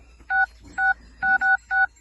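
Five clear keypad tones from a mobile phone calling a farm pump motor controller, evenly spaced bursts with the fourth and fifth close together, loud and alone with no talk.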